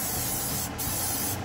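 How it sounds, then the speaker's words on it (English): Virgin oil is sprayed from a spray bottle onto baby potatoes: a steady, close hiss of fine mist lasting the whole moment, with a couple of brief dips. "You're gonna have to spray a virgin oil onto your baby potatoes."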